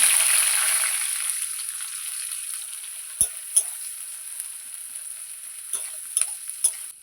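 Chopped onion hits hot oil already seasoned with a bay leaf and panch phoron, a steady close sizzle hissing throughout, with a few sharp clicks of a spatula stirring the pan near the end.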